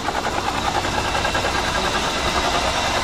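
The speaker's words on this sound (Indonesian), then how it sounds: "Ini suara fan belnya terkena air." Daihatsu Taruna injection engine running while its fan belt is hit by water, a loud, close, continuous churning and whirring drone with a rough, uneven texture throughout.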